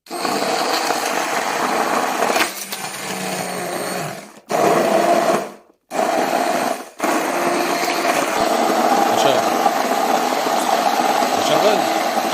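A kitchen blender whirs loudly and steadily, blending cheese with red pepper, cutting out briefly twice before running on, close to the microphone.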